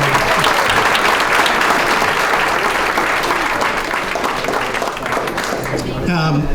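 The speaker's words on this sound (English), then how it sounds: "big round of applause for this board" Sustained audience applause fills a hall of fame ceremony, dense steady clapping from a large crowd throughout, ending in a brief rising tone at the close.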